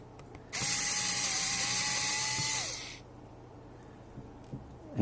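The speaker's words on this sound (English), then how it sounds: "First we're going to take out the screws that holds this plate on." A small electric screwdriver whirs steadily for about two seconds while backing out a screw from the plate of a Galaxy S22 Ultra during screen replacement, then winds down, followed by faint clicks and handling.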